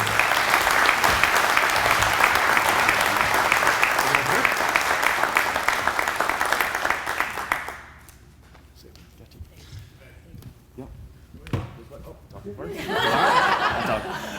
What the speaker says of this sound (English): So please, give a big round of applause to our small business movement.